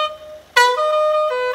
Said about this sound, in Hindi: इनके अंदर साउंड और कितने हॉर्न है, 30 से 40 हॉर्न है